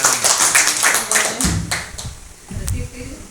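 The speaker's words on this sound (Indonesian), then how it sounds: "Terus Tepuk tangan" An audience at a university workshop in Jember gives a short burst of rhythmic clapping, close and fairly loud, which fades after about a second and a half, followed by a few scattered claps and voices.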